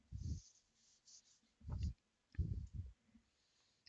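A pen on paper underlining a digit and marking three dots during a long-division exercise, short quiet scratchy strokes in a few separate bursts, very close and soft.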